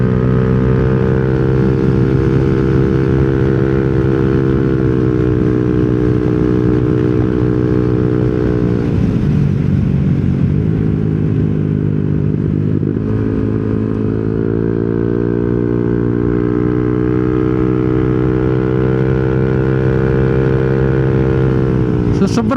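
Yamaha Nmax scooter fitted with a TSMP CVT set, its engine running steadily loud and close for the whole stretch, with a brief dip in pitch midway before climbing back, wind buffeting over it.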